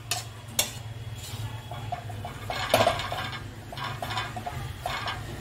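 A utensil stirs besan roasting in ghee in a pan, making close, repeated scraping and clinking against the metal over a low, soft sizzle, with a few sharper taps along the way and no talking.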